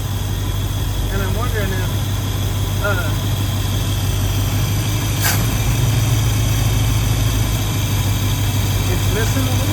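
The engine of a converted baler vehicle, not run in seven years, idles with a steady, rough, close rumble. People talk over it throughout, and a brief sharp noise cuts in midway.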